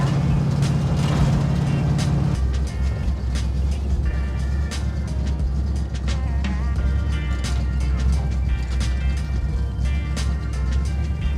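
A 1967 Pontiac GTO V8 on Haltech fuel injection runs steadily up close, a deep continuous rumble with an uneven low idle, a shift in pitch around two seconds in, and voices talking over it.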